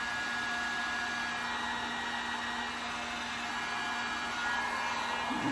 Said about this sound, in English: if you are going to try to use a heat gun in between coats